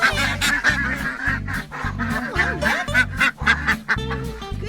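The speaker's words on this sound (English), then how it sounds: "Good morning, ducks!" Domestic ducks at a backyard pen call in loud, rapid honking quacks, overlapping bursts in a steady rhythm close by.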